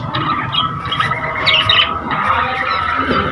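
Three newly hatched Australian parrot chicks give scratchy, squeaky chirps and calls nearby over a constant background rumble.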